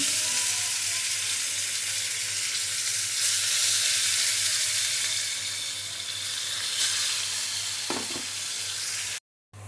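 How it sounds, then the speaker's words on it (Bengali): Koi fish, rubbed with salt, turmeric and chili and cut in halves, frying in hot oil in a home kitchen; a steady close sizzle runs throughout, with brief stirring clatter near the end before a short dropout. "তেলে দিয়ে দিলাম"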